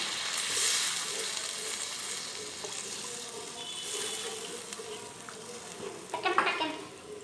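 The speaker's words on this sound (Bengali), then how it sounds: "এবার আমি নারকেলের যে দুধটা বেরিয়েছে সেটা আমি দিয়ে দিচ্ছি।" Coconut milk poured into hot spiced oil for a Bengali vetki fish malaikari, giving a close, steady watery sizzle and bubbling that runs throughout. A brief louder spluttering burst comes near the end.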